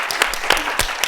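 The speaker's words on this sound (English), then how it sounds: "one more round of applause for our guest, for Nina." Short burst of audience applause for a guest at a Memorial Sloan Kettering panel event, with a few sharp, distinct claps standing out over a steady wash of clapping.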